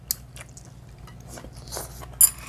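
Chewing of fresh, springy stir-fried squid at a home Korean meal, with a few soft crunchy bites and moist mouth sounds, close and fairly quiet, no talking.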